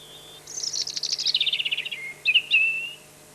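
European robin song from a sound archive of common British birds: a single bird gives a fast, bright run of rippling high notes, then a couple of short sharp phrases, close and clear with nothing else behind it.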